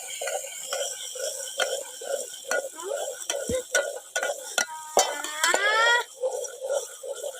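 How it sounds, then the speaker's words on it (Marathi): Onion and coconut paste is stirred in a pan for an egg curry, with a soft repeated scraping rhythm and faint sizzle. A few sharp clinks of the utensil against metal come near the middle. "कांदा आणि खोबऱ्याचं वाटण टाकलं की जरा हे हलवायचं"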